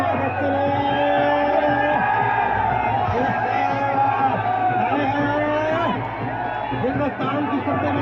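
Crowd at a kushti wrestling match in Malegaon cheers and whoops in a steady, loud roar, with an announcer's amplified voice running over the noise.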